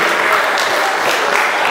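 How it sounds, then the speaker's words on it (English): An audience gives a round of applause for an elder at a community gathering, a brief, loud, dense burst of clapping filling the room. "give that elder a round of applause for allowing us to be here"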